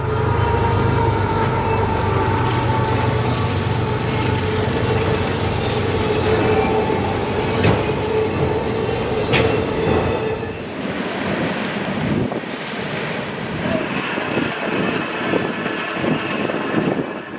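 A freight train with a mid-train GE ES44AH distributed power locomotive rolls by near Brunswick, a steady loud rumble of wheels and cars with a brief horn-like tone and a shift in texture partway through, no voices.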